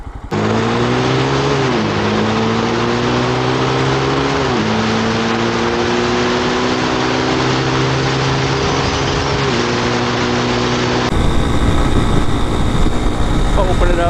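Lifan KPX 250 motorcycle, a 249cc single with EFI and six-speed gearbox, pulling hard under open throttle, the engine note rising steadily through a long run with a gear change partway, loud wind rush joining near the end.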